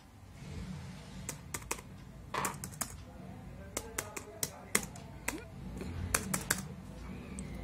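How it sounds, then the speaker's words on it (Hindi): Computer keyboard keys are typed in irregular bursts of sharp clicks, close and fairly quiet, over a low background hum with no talking. "मैं यहाँ पर आपको इंग्लिश में पहले टाइप करके दिखाता हूँ कि जैसे कि मैं टाइप अगर कर रहा हूँ हेलो"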